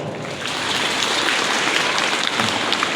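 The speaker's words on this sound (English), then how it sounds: "Next girl, please clap for her." Students at a school assembly clap for a girl recognised as a school topper, a dense, steady patter of many hands that carries on without a break across the whole stretch.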